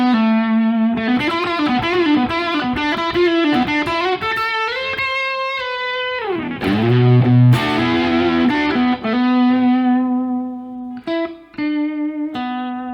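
A Fender Telecaster electric guitar with single-coil pickups plays a run of sustained, effects-heavy notes and chords with a distorted, chorused tone, then pauses briefly and resumes with a few short, clipped phrases.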